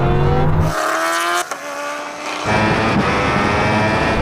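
Koenigsegg Jesko Absolut, Kawasaki Ninja H2R and Bugatti Chiron Super Sport accelerating hard in a rolling race from 50 mph to the half mile, a loud roaring engine drone with a sharp gear shift midway and rising pitch.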